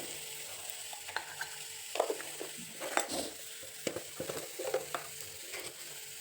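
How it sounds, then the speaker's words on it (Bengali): Spice paste frying in a pan while being stirred, a low continuous sizzle with irregular spatula scrapes and taps on the metal, close and quiet, no talk. "মশলাটা কষানো হচ্ছে"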